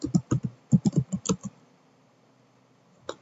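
Quick bursts of keystrokes from typing a Linux command on a computer keyboard, about a dozen close, crisp clicks in the first second and a half, then quiet and one last tap.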